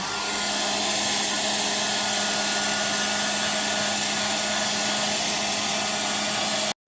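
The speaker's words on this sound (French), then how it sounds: "tu prends un sèche-cheveux et tu chauffes doucement au-dessus" A hair dryer runs steadily at close range for nearly seven seconds, heating shrink plastic around a remote control, with a constant whooshing airflow and motor hum before it cuts off abruptly at the end.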